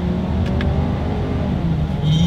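A 2020 Ford Edge SUV accelerating in paddle shift mode, a steady low engine drone heard from inside the cabin, with no talking.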